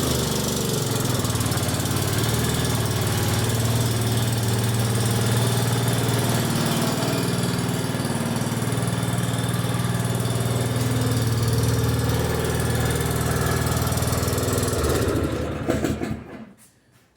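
A rebuilt Craftsman R1500 riding mower engine idles steadily and loudly up close with a low, throbbing rumble that holds for about fifteen seconds before cutting off abruptly near the end.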